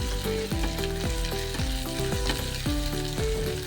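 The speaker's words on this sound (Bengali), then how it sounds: "এই পেঁয়াজ আর আদা রসুন পেস্টটা আমি একটু ভেজে নেব" Onion and ginger-garlic paste frying in a pan for a Bengali prawn curry, a loud steady sizzle with rhythmic scraping stirs, under a low musical drone and no talking.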